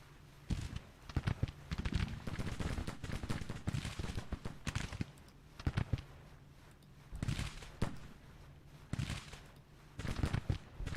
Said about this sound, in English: he's doing all right against the artillery fire